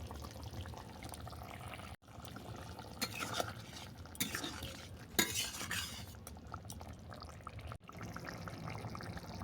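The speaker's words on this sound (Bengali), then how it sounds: "এবার ঝোল নামানোর 2 মিনিট আগে আমি পোল ছাতার বড়াগুলোকে দিয়ে দেবো।" Mushroom fritters being dropped into a simmering vegetable curry, with soft stirring, pouring and utensil scrapes against the pot over a steady low bubbling, including a couple of sharper clinks.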